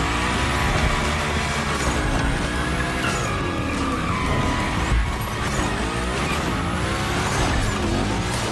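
Hoonicorn car sliding hard in The Crew Motorfest racing game, a loud, continuous roar of engine and squealing tires with rising and falling whines as it drifts through gymkhana slides.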